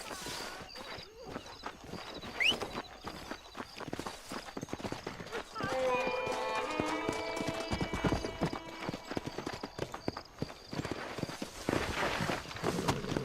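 Rapid clip-clop of horse hooves at a run in Red Dead Redemption on Xbox 360, mixed with game music and effects, while someone talks over it.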